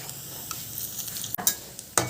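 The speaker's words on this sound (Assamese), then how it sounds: "এয়া ৰঙা হোৱালৈকে মই ভাজি ল'ম" Dhekia pokori, fiddlehead fern fritters, frying in hot oil with a steady soft sizzle, broken by a few sharp scraping stirs and clinks of a utensil against the pan near the end.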